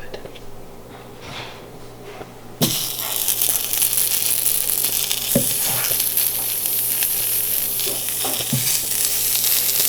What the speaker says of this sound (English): We'll grill up our onions.